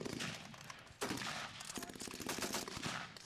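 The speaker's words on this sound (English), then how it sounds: "This is the one they call the Spandau in the books. It's a light machine gun, and in many respects, it's been the forerunner of every light machine gun since. Extremely high rate of fire" Spandau light machine gun firing blanks at a WW2 battle reenactment, with sustained rapid bursts of automatic fire, loud and near, rattling continuously across the clip.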